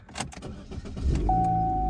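A Chevy Sonic engine starts up after repairs: a few clicks and handling noises, a brief cranking, then the engine catches and settles into a steady idle with a faint whine, close and fairly quiet, no voices.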